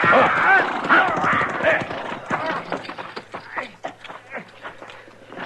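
Horse hooves clip-clop in a 1956 radio western drama, galloping and then slowing, with a sharp whinny cutting through the mix and voices speaking over the effects.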